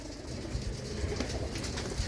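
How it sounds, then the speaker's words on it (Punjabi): A white-eyed pied racing pigeon coos softly and repeatedly in a loft, low rolling calls over a steady background murmur. "ਬੱਗਾ ਕਬੂਤਰ ਆ ਬਾਈ ਚਿੱਟੀਆਂ ਅੱਖਾਂ ਦਾ"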